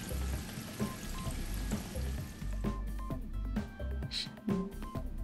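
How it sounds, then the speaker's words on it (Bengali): Tilapia fish pakoras frying in hot oil over raised heat give a steady close sizzle and bubbling, with a few soft knocks as they are turned. "উল্টিয়ে পাল্টিয়ে আমি 7-8 মিনিটের জন্য মাছের পাকোড়াগুলোকে ভেজে নিয়েছি।"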